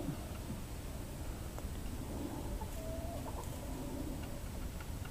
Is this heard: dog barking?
no